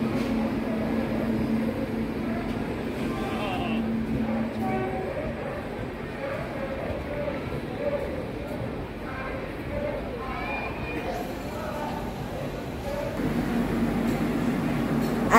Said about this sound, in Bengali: এই যে চলে এসছে, ঢুকছে train. Train number 12381 Howrah new Delhi পূর্বা এক্সপ্রেস ভায়া গয়া।